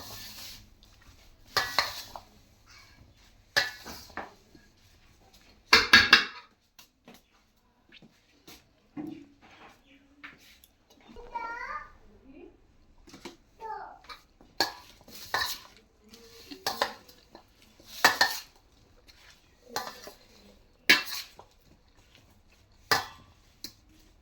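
White chickpeas tipped into a bowl of fruit chaat and mixed, with scattered clinks and scrapes of a spoon against the bowl, sharp close knocks between quieter stirring, and soft background sounds in the pauses.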